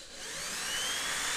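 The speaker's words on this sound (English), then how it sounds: "Now this pipe on the Hatching Time cages is PVC, so it's pretty simple to drill." A drill slowly bores a pilot hole through PVC pipe with a 1/8 inch bit, giving a steady, faint high whine that builds slightly and holds evenly.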